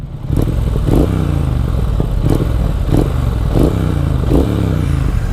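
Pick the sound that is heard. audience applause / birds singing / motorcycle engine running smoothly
motorcycle engine running smoothly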